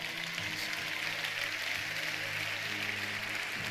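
A church congregation applauds in praise of God, a steady, dense wash of clapping at a fairly even level throughout.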